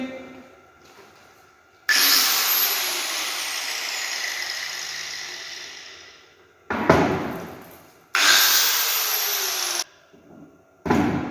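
An angle grinder fitted with a cutting or grinding disc, in a metal shop before steel is prepared for welding, revs up loudly and runs at idle, then winds down, twice in succession, with a brief restart at the end.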